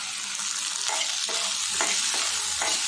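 Tomatoes sauté with ginger in an iron pan for chutney, a constant bright sizzle broken by several rhythmic spatula scrapes, close up and without speech.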